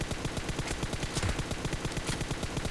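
Rapid bursts of M416 rifle fire in PUBG team deathmatch, a dense run of sharp cracks in quick rhythm, loud and close, continuing through the whole stretch.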